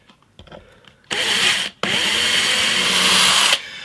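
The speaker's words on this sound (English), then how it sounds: "I think I'm going to do that with the 3mm drill that I drilled the original holes with" A 3mm drill boring string holes through a Telecaster body built from wood scraps, with a brief first burst, a short pause, then a longer steady high whine close up, after faint handling knocks.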